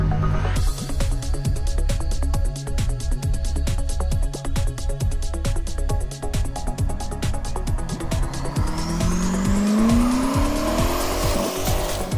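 A Corvette is driven hard, its engine roaring loud and close with rapid rhythmic pulsing, while tires squeal in a rising, drawn-out screech toward the end.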